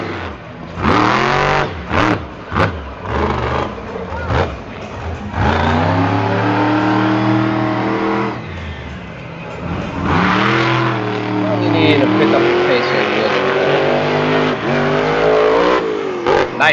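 A monster truck engine at a Fowlerville arena show revs hard in loud surging bursts. The pitch climbs and falls through several throttle swells, mixed with crowd and arena noise, and a commentator talks over parts of it.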